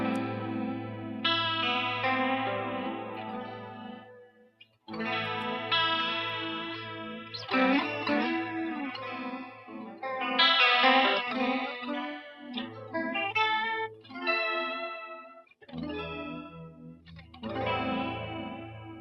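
Universal Audio chorus pedal modeled on the original 1976 Boss CE-1 bucket-brigade chorus, processing a lush, shimmering instrument: chords and melodic phrases played alone, with brief pauses near the middle and toward the end.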